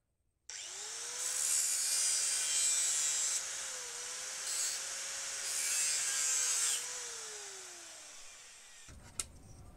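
An angle grinder cuts a motorcycle lock bracket on a Yamaha R15 v2. It spins up abruptly to a loud, close, high-pitched whine, and the gritty cutting noise rises and falls as the disc bites into the metal. The motor then winds down and the grinder clunks as it is set down.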